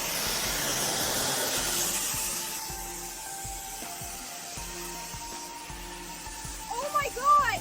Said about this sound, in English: Just watch how this high heat steam blasts straight into grout lines, tight corners, and all that nasty bathroom and kitchen buildup